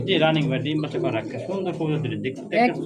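Pigeons kept for sale coo softly and steadily in the background while someone talks over them almost the whole time.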